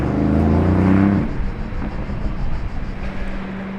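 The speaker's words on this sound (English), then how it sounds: "Another noisy Temerario!" A matte black Lamborghini Temerario engine roars loudly and close at first, then the note fades as the car moves off, leaving a lower rumble and lighter engine sound trailing behind.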